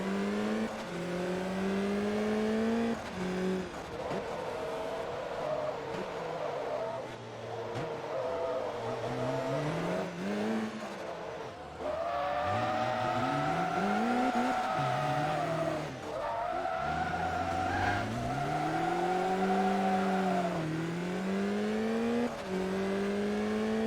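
Race car in Forza Motorsport 2, a 700HP invitational race: a loud engine climbs and falls through gear changes, with tire squeal through corners and a hairpin, running steadily for the whole stretch with no talk.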